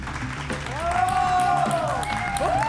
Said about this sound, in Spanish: Se asustaron con lo de los aplausos grabados, ¿verdad?